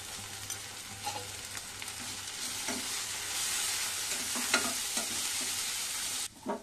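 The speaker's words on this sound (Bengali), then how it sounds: "মশলাগুলো প্রায় ভাজা হয়ে গেছে" Spices, including cumin paste and turmeric loosened with a little water, sizzle in a pan for a banana flower curry, with repeated stirring scrapes and utensil knocks over a continuous frying hiss, ending in a sharper clatter.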